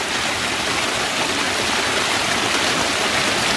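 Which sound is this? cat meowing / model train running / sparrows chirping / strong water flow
strong water flow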